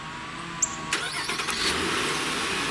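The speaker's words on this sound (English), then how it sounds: "we're gonna remote start the vehicle" A 2015-or-later Nissan Murano fires up by remote start: a sharp crank catches, then the engine settles into a steady, fairly close idle with no talking.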